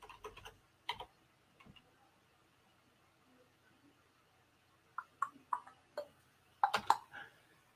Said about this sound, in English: We're just going to type this in.